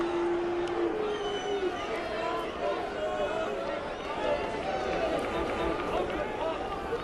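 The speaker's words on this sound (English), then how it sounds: "I can hear this crowd getting into it now." A baseball stadium crowd at a Blue Jays versus Cleveland game builds into a steady, rising roar of mixed cheering and chatter, continuous and fairly loud throughout.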